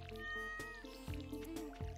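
A cat named Pancake in the farming game Stardew Valley gives a couple of short, close meows over soft, looping background music.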